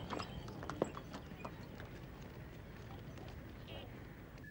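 Hooves of a horse pulling a tanga, a horse-drawn carriage, clip-clop in a steady rhythm on a street, fairly faint and moderately near, with ambient street noise and people talking around it.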